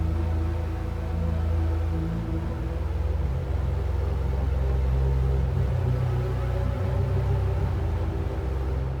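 A spirit bass synth pad built in Ableton for burial bass, a loud, sustained, deep droning tone with slowly shifting low harmonics held throughout, no voice.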